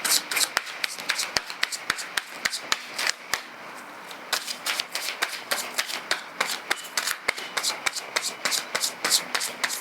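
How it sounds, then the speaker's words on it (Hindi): A deck of tarot cards is shuffled by hand up close, giving quick repeated riffling snaps and soft rubbing bursts in an uneven rhythm throughout. "तब तक मैं थोड़े कार्ड्स शफल कर लेती हूँ।"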